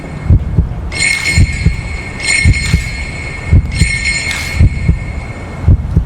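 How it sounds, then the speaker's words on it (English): Heartbeat effect in the video game Tsukuyomi, a steady series of low, thudding double pulses repeating about every second, with a bright tonal shimmer fading in and out above it and no voices. "Why is the heartbeat still sounding now that I realize?"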